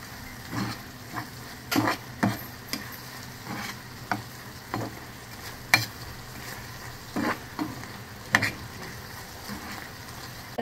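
Ambad fry masala being stirred in a pan, repeated scraping and clanking strokes at an irregular rhythm over a low background sizzle, close and moderately loud, no voices.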